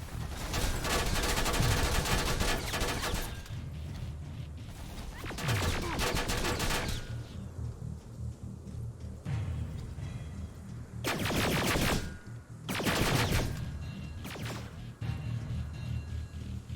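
Automated turrets in Terminator: Resistance fire on Terminators in long, loud bursts of rapid gunfire with short gaps between volleys, close and dominant throughout.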